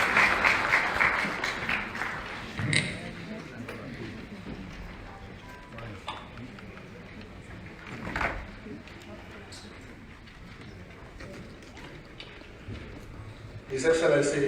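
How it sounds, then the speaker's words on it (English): Audience applause at a Nigerian National Assembly public hearing welcoming a senator to the podium: steady clapping from a crowd in a hall, mixed with a speaker's amplified voice and swelling again near the end. "Please let's welcome him with a resounding applause."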